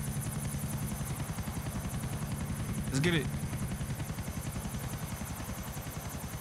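A plane engine in Grand Theft Auto: Episodes from Liberty City gives off a steady pulsing mechanical drone, with a sharp short whine-like burst midway and a voice speaking over it.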